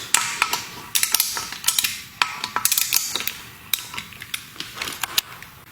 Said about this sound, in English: So I'm just going to remove all of these Allen bolts.